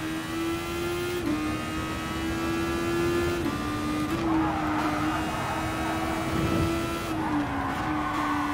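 Race car in Gran Turismo Sport, a steady high engine whine with brief pitch drops at gear shifts and short tire scrubs as the car oversteers, close and continuous with no talking.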